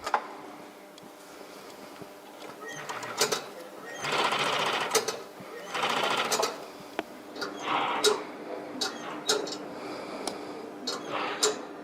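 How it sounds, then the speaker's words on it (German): Industrial Strobel sewing machine stitching the upper of a classic running shoe in a workshop, running in several bursts of rapid mechanical clatter separated by brief pauses, close and fairly loud with no talking. "Sie heißt tatsächlich nur so, weil die Nähmaschine von der Firma Strobel hergestellt wurde."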